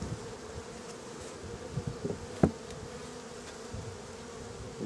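Honey bees droning steadily around their original hive after a walk-away split, a faint, continuous buzz with a few louder passes of individual bees close by.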